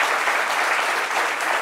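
An audience applauds at a French midday television show, a dense and loud burst of clapping that holds steady throughout.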